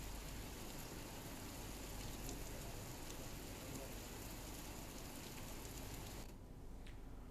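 Steady rain pours down in Laksar, Uttarakhand, around the Dussehra Ravana effigy, a dense continuous hiss that stays even throughout and thins slightly near the end.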